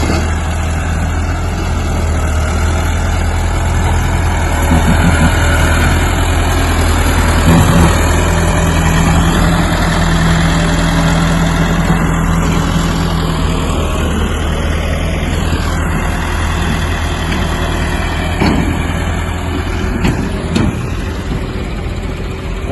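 A loaded tractor grinds up a badly rutted track near Mangla Dam, its engine droning steadily and loudly throughout with no break.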